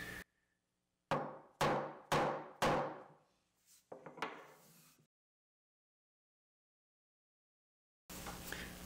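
Four sharp hammer blows in even rhythm drive a spur drive into a wood blank, followed by a few lighter knocks and clatter, then silence before a burst of room noise.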